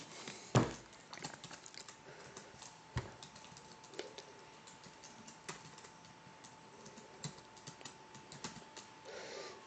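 Soft tapping of someone typing on a computer keyboard, a faint, irregular run of light clicks with a few sharper keystrokes, heard alone with no voices.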